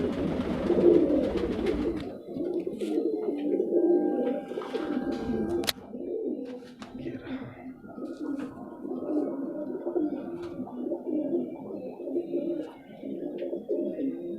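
Rampuri pigeons cooing in a loft: continuous low, throaty coos from several birds close by, overlapping in a steady murmur with occasional wing flutters and small knocks.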